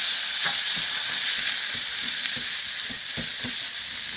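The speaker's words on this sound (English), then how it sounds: "I'm going to saute that for a minute" Celery sizzles steadily as it sautés in a pan, a continuous bright frying hiss with faint scattered clicks of stirring, no voices.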